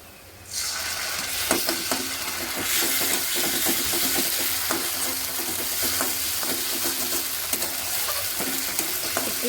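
Chopped onions frying and being stirred in a pan for a Bengali pabda fish curry, a steady close sizzle that starts abruptly and holds throughout, with scraping stir clicks scattered over it and no talk.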